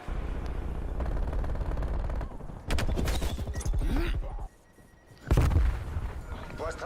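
Rapid automatic assault-rifle fire in Black Ops Cold War, loud bursts starting and stopping through the clip, with a brief lull near the end before another heavy burst, under occasional game noise.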